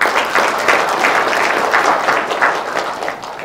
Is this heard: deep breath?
no